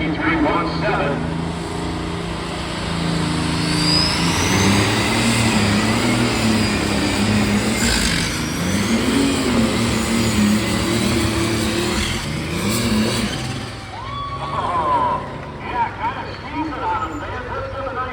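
A pulling tractor's engine roars steadily at full load through a tractor pull run at Dover, Ohio, a loud sustained drone with shifting pitch, under a public-address announcer and crowd noise.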